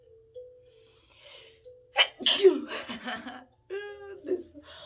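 A single loud sneeze bursts out after quiet spoken words, followed by a short chuckle and a voice speaking again.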